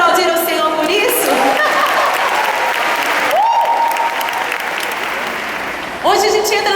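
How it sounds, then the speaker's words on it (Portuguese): Loud, dense applause from a large church crowd at a women's conference, a steady roar of clapping with cheers and voices rising through it. "Você pode aplaudir o Senhor por isso?"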